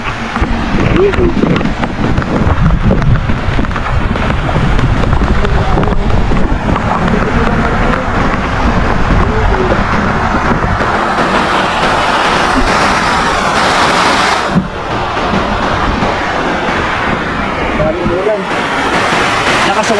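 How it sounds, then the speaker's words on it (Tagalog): Rain pours steadily while riding a motorcycle, a dense continuous hiss mixed with strong wind buffeting the microphone and engine rumble throughout, with a person talking intermittently over it. "Umuulan na."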